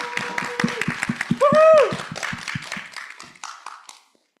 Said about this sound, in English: round of applause to welcome Abbess